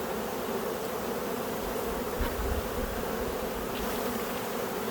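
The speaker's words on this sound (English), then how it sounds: "So now I'm ready to shake the rest of these bees down." Honeybees are shaken down from a hive frame while adding a queen excluder, filling the air with a dense, close, continuous buzzing swarm and one dull bump partway through.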